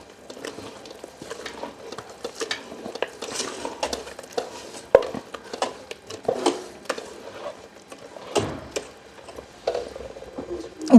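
Hand-mixing flour dough for rose-shaped snacks in a metal bowl, with irregular clinks, scrapes and soft squelching strokes repeating close up.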